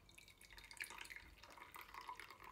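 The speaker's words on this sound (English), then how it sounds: "We're now going to pour the coffee into the cup." Coffee poured from a cafetiere into a cup, a soft, brief trickle and dribble of liquid, close and quiet, with no voices.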